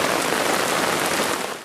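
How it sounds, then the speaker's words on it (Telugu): Heavy rain pouring down during a storm in Nakkapalli, Visakhapatnam district, a dense, loud, unbroken roar of drops hitting surfaces, alone, with no voices. "విశాఖ జిల్లా నక్కపల్లిలో భారీ వర్షం కురిసింది."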